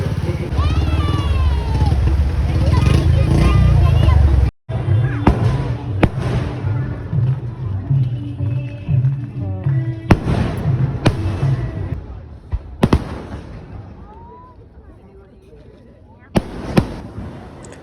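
Festival fireworks in Kannur boom and crackle repeatedly, loud and close, with sharp bangs over a busy crowd and motor noise, some people talking throughout and quieter bursts near the end.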